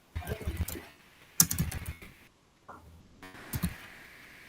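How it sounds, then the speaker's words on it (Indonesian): Typing on a computer keyboard in an online meeting setting, short bursts of clattering keystrokes in two or three clusters separated by pauses, fairly close and quiet, with no talk over it. "Sudah mulai mengetik."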